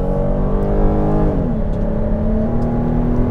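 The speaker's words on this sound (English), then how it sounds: "it actually sounds good because it's a V6" A 2022 Kia Carnival SX Prestige minivan's V6 engine pulls hard under acceleration, its tone climbing, dipping at a shift, then rising again loud and close, with no voices.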